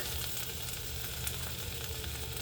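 A vegan spring roll fries in a cast iron skillet, pressed against the pan wall, with a steady, close hiss of sizzling oil running unbroken throughout.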